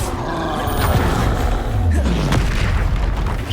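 Bombarda spell explosions in the Hogwarts Legacy video game burst in loud, overlapping booms, with crackling blasts and whooshing magic effects packed closely together during combat.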